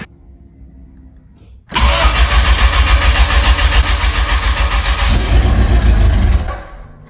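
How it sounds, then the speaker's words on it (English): A car engine cranks and fires up after an oil change, catching into a loud, steady idle that holds for several seconds before easing off slightly. "Start your engines."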